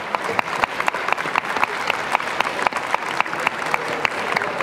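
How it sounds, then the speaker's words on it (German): At the AniNite 2016 anime convention, the audience gives moderate applause, with individual sharp claps standing out from a continuous patter. "Und darum bitte ich Applaus für die Damen."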